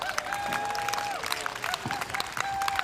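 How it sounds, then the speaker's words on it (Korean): Crowd applause at an outdoor Korean political rally and trekking event, with dense clapping mixed with whistles and scattered voices, lively and close throughout. "자, 모두에게 응원의 박수를 부탁합니다."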